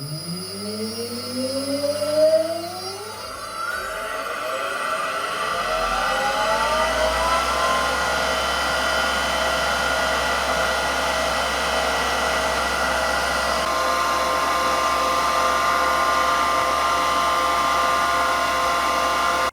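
A military 400 Hz electric motor spins up on a small improvised RPM test stand, its whine rising steeply in pitch over a few seconds, then settling into a loud, steady high whir that runs to the end.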